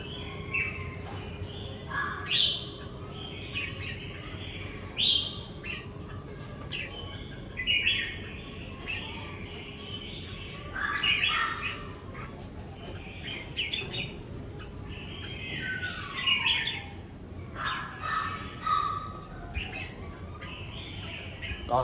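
Caged songbirds raised for competition chirp and call in bright, scattered bursts every few seconds over a steady low background hum, with several birds overlapping at moderate distance.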